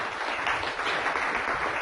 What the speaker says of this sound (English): Big round of applause for the lady.